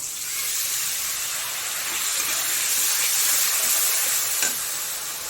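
Water and turmeric powder hit hot spices in a pan, setting off a loud, steady sizzling hiss close by that holds for several seconds without any talk.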